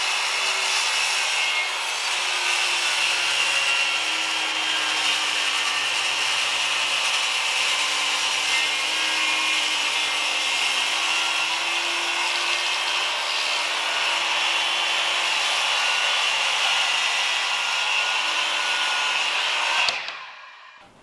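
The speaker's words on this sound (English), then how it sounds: "I want to set up a rip fence for my circular saw and cut these" A circular saw guided along a rip fence cuts long wood planks, a loud continuous whining buzz held for about twenty seconds before cutting off abruptly.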